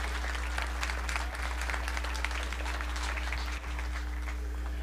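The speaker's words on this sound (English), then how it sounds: "Let's put our hands together and give these young people a round of applause." Audience applause at a youth sheep show, continuous dense clapping from a crowd, steady in level throughout with a constant low hum underneath.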